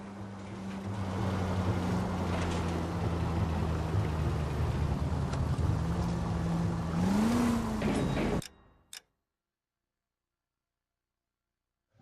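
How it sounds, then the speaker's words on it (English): A car cruising down a highway in L.A. Noire, a steady engine drone with a low hum that rises slightly in pitch, cutting off abruptly to silence after about eight seconds. "Driving down the highway, 20 miles an hour."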